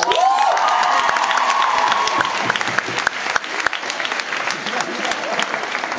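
Audience applause and cheering greet a band at a live concert, a dense, steady clapping from a crowd that carries on for several seconds with scattered whoops.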